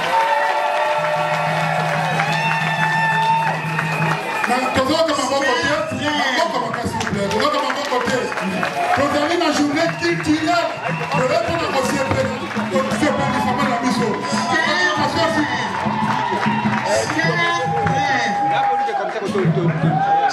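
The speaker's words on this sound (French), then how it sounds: "Applaudissons pour notre frère." A large crowd at an enthronement ceremony for a royal cultural prince, cheering and applauding in a sustained, dense wash of claps and voices, with a speaker's amplified voice carrying over the noise at times.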